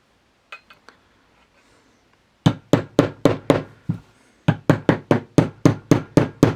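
A hammer strikes metal on a Belgian "Texas Ranger" revolver during disassembly: a few faint taps, then a loud run of about six sharp, ringing blows, a short pause, and another quick series of hits.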